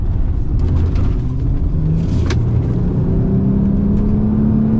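Car engine running and driving after catalytic converter repair on a vehicle that had been misfiring on two cylinders, with a loud steady engine drone and a gradually rising tone as it accelerates, no talking.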